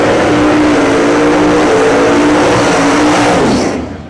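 Pontiac Firebird launching off the line in a drag race at the Ames Performance Tri-Power Pontiac Nationals, a very loud, close engine roar holding steady under acceleration, then fading away as the car pulls off.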